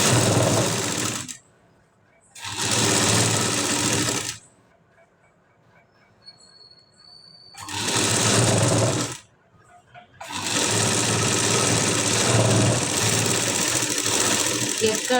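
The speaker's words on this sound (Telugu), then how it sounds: "ఇది నెక్స్ట్ ఇంకో స్టిచ్ అయితే వేసుకుంటున్నాను" A sewing machine stitching the hem of a plain blouse, running in loud steady bursts of rapid mechanical whirring separated by short pauses, close up and dominating the sound with no talk over it.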